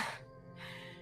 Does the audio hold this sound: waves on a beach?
no